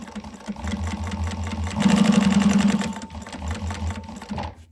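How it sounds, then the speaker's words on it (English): A sewing machine back stitches a trim piece, its motor humming close and loud with fast rhythmic needle chatter that swells into a steady run in the middle. "But I will back stitch here."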